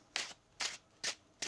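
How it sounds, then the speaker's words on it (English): Tarot cards are shuffled by hand in four quick, soft rustling bursts at an even, steady pace, close and quiet, with no talk. "One more shuffle here, please, and thank you."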